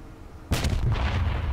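A single heavy boom from an M1 Abrams tank cannon in a video game, loud and close, bursting out of quiet background noise and rumbling on afterward.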